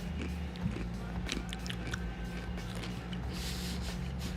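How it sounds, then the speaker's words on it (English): Someone crunches plantain chips right at the microphone, with a steady run of close, crisp bites and chewing against a constant background hum. "I would back away from the mic while you crunch"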